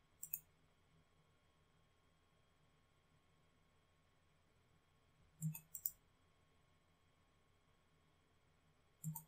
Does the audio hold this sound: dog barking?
no